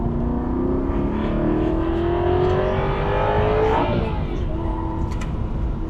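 An Aston Martin V8 Vantage engine pulls hard in fourth gear, its note rising steadily in pitch before a shift-like drop, loud and continuous from inside the car with faint voices.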